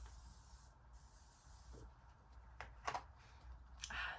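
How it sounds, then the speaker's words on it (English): Morphe Jeffree Star setting spray misted onto a face in a few short hissing spritzes, close to the mic against a steady background hum. "I'm gonna go ahead and use the Morphe Jeffree Star setting spray, which smells so just gonna spritz that all over our face"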